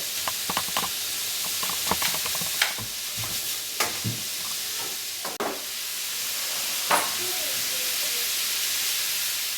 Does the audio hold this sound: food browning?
yes